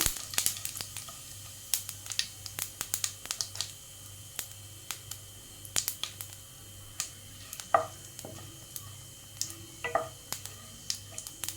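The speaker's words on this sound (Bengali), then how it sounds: "এর মধ্যে দিয়ে দেবো 1 চা চামচ গোটা জিরে। 10 সেকেন্ডের মতন একটু নাড়িয়ে নেব।" Whole cumin seeds crackling in hot oil, with quick sharp pops scattered over a soft sizzle and a few scraping stirs of a spoon in the pan, close and fairly quiet.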